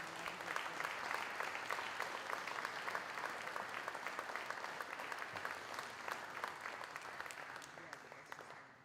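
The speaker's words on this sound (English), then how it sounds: "Once again, a nice round of applause for our Western Maine Conference Winter All-Conference recipients." A high school athletic awards night audience claps for Western Maine Conference winter all-conference recipients, a dense, sustained round of applause filling the hall at even strength before easing off at the very end.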